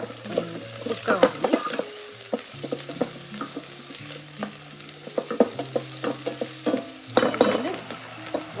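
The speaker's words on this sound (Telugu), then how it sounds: "కొంచెం బర్న్ చేస్తాను ఆ గార్లిక్ని ఇప్పుడు ఒక ఒక స్మాల్ ఆనియన్ లైట్గా" Garlic, lightly burned, and a small onion frying in a pan for minestrone soup, with steady close sizzling and repeated spatula stirs and scrapes, no talking.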